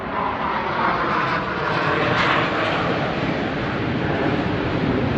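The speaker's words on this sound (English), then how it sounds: "Blue Angels are in town. They're buzzing me." Blue Angels jet aircraft flying low overhead, a loud continuous roaring rumble that swells and holds throughout.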